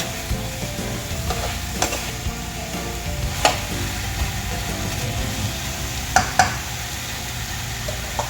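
Tomato sautés in a pan with a steady close sizzle, broken by occasional sharp scrapes and clacks of a utensil stirring; no one speaks.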